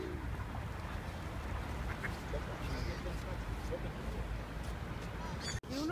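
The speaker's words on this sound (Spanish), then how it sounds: "verás que los patos con este van detrás" Ducks quack amid a noisy outdoor crowd in a Kraków setting, their calls faint and scattered under a dense wash of chatter and background din.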